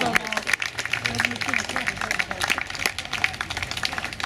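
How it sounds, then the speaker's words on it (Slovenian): Applause from spectators in the stands at the opening of a new bocce court in Celje, with dense, steady clapping mixed with crowd noise and some voices. "tako da prijazno prosim še za aplavz"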